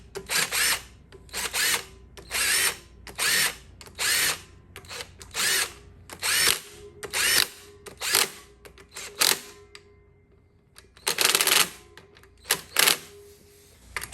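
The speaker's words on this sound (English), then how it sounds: "Tighten up these spring bolts." Motorcycle clutch spring bolts on a KX125 are run down with a power tool, a series of short, loud whirring bursts with brief pauses between them, close up, with no talking.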